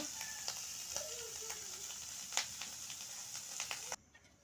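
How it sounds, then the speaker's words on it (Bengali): Prawns fry in hot oil with a constant crackling sizzle and scattered louder pops, fairly quiet overall, until the sound drops away abruptly near the end. "চিংড়ি মাছগুলো ভালোভাবে ভেজে নিলাম"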